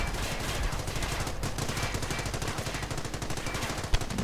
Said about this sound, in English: Hotchkiss once more advancing on the machine gun emplacement, opening up with its tiny 37mm gun.